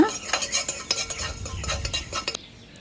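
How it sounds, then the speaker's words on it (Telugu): Fenugreek seeds roast in a hot pan while a metal spoon stirs them, giving quick scraping strokes and light clinks over a soft sizzle, close and steady before stopping abruptly near the end. "మెంతులు ఈ వేడికి ఊరికే చక్కగా వేగిపోతాయండి"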